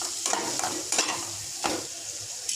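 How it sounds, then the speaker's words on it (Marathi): A spice mix for a fresh bombil (Bombay duck) fish curry is stirred in a pan, with rhythmic scraping strokes over a light, steady sizzle, close by and without speech. "आता हे सगळं मिक्स करून घ्यायचं।"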